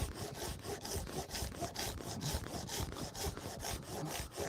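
A hand saw cuts through dense firewood with a steady back-and-forth rhythm of rasping strokes, roughly four per second. The sound is close and fairly quiet.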